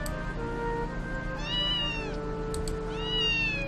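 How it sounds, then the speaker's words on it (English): A stray cat with matted fur meows twice, close and clear, over a steady low hum of background music. "A scrawny cat with matted fur stared up at me."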